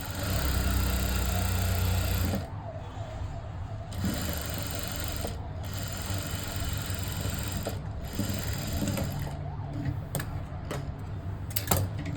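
A sewing machine stitches a blouse shoulder in short close bursts, its rapid mechanical whirring and ticking starting and stopping several times, with a louder hum at the start.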